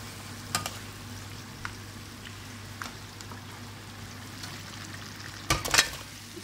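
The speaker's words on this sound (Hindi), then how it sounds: "ये है जी मेरी मीट कढ़ाई, इसमें मैंने मीट डाल दिया है, ये उबला हुआ मीट।" Boiled meat frying in a karahi gives a quiet, steady sizzle, broken by a few sharp clinks and stirring scrapes, the loudest near the end.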